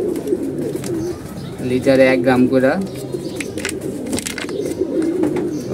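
Pigeons, some healthy and some sick, coo steadily in the background while someone talks over them at close range.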